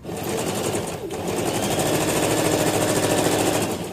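A sewing machine runs steadily while stitching the folded hem of a robe (jubah), a dense mechanical whir with rapid needle rhythm that pauses briefly near the start and then continues unbroken.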